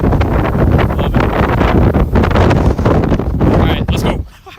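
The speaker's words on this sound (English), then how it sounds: "Getting windy." Wind roars across the microphone in loud, continuous gusts during a Montana supercell storm, rumbling and hissing for several seconds before dropping away at the end.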